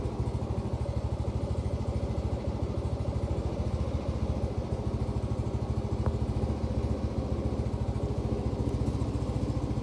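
A modified Yamaha Mio M3 scooter engine idles steadily nearby while warming up, its low, even chugging putter running unbroken and alone throughout.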